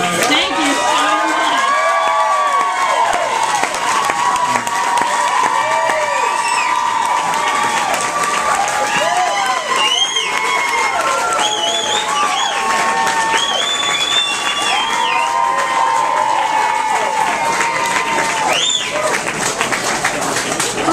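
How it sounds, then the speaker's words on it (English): A comedy club audience breaks into loud, sustained applause and cheering with whoops and shouts, a dense crowd roar that fills the room throughout. "I'm going to pretend that applause is for me coming back up"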